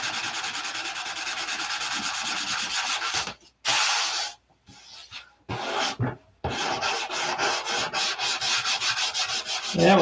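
Abrasive sanding scrapes old aqua green paint off wood in rapid, rhythmic back-and-forth strokes, loud and close, broken by a few short pauses before resuming steadily.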